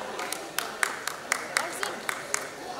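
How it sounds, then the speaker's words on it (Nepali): Rhythmic hand clapping at a steady pace, about a dozen sharp claps over a background of crowd murmur at a Nepali comedy show. "विल्सन विक्रम ताली बजाइरहेको छ"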